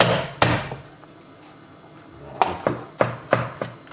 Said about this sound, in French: J'ai récupéré et j'ai épluché les gousses d'ail. Je vais les écraser.